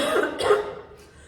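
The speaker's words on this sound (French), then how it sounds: "Excusez-moi, je tousse parce que je suis tombée malade." A single close cough, a short raspy burst followed by a smaller second hack, then quiet.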